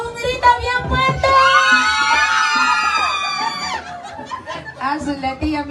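A crowd of women at a birthday party lets out a loud, sustained shout lasting a few seconds, bursting in after talk and trailing off into scattered voices and laughter.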